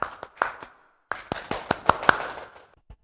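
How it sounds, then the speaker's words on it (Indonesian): A small classroom group gives a short round of hand claps during an accounting lesson: a few scattered claps, a brief pause, then a denser cluster of sharp claps that trails off. "tepuk tangan"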